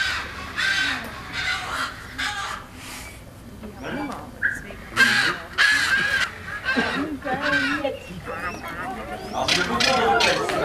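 Harsh, repeated calls of a caracara marking its territory ring out in short bursts over a steady murmur of background voices, loud and fairly close.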